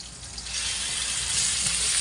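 Squid (pusit kalawang) sautéing in a hot pan gives a steady, loud, broadband sizzle that swells after the first half-second and holds evenly throughout, with no voices.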